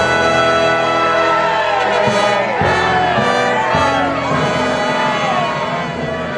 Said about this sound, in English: The crowd calls blessings on your head.